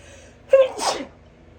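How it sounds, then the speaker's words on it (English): A single close, sharp sneeze with a quick inhaled buildup and an explosive burst, then quiet. "I am gonna sneeze"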